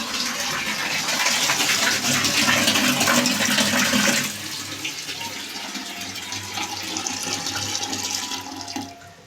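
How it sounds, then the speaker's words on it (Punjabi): Water gushes from a household tap in a Punjabi home as supply starts returning, a loud steady splashing rush that drops to a softer, thinner flow about halfway through before trailing off. "ਥੋੜਾ ਥੋੜਾ ਪਾਣੀ ਆਉਣਾ ਸਟਾਰਟ ਹੋ ਗਿਆ"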